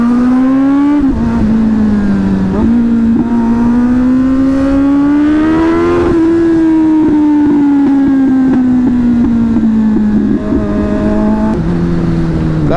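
A Kawasaki Z900 superbike accelerating hard in a drag race, its loud engine note climbing through the gears with rising pitch, brief dips at shifts, and a sustained high-revving roar up close.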